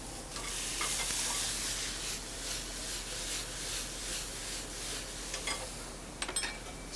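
Tomatoes are broken up by hand into a hot pan for a rustic dish, with a continuous sizzle and wet stirring, squishing texture close by, and a few clinks near the end.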